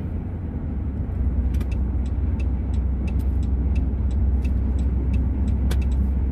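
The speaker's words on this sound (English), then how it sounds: "Truck was like really going slow." A truck crawls slowly along a road, a steady close-up rumble of engine and tyre noise holding throughout, with faint light ticks on top and no voices.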